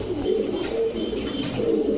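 Several pigeons coo continuously in a low, throaty murmur, nearby and steady, with a low hum underneath.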